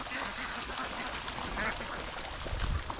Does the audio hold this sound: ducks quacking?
yes